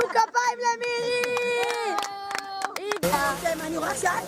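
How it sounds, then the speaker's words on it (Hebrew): An audience bursts into applause and cheering for a performer at a year-end school event, clapping and excited voices rising abruptly after high-pitched singing and chatter. "תנו כפיים למירי!"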